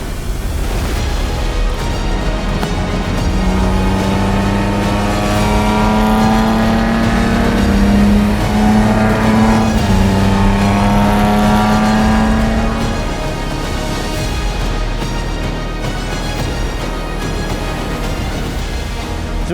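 Datsun 260Z with custom headers and a 2.5-inch exhaust revs continuously near and loud, engine note climbing and falling through several sustained pulls before settling back to a steady idle.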